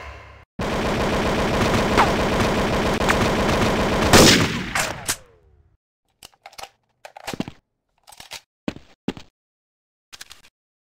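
Rapid automatic gunfire in the Special Ops Android shooter game, a long, loud sustained burst that cuts off, followed by scattered short single shots and brief bursts with silence between.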